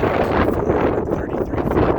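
Loud gusty wind buffets the microphone on the summit of Mount Elbert, Colorado, at 14,433 feet, a heavy continuous roar with rumbling low-end thumps throughout.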